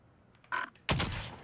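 Two sharp sniper rifle shots in quick succession in the game Call of Duty: Warzone, the second louder and booming with a short tail, like distant rifle fire.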